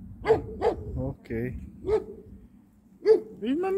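A dog barks several times in short bursts nearby while a person talks in between and over the barks.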